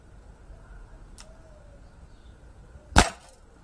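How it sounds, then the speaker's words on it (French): A single sharp crack from an Umarex Beretta 92 Elite 2 air pistol fired at a target at about five to six metres, loud and close, standing alone against quiet background hiss. "on va se finir ce chargeur dans la cible"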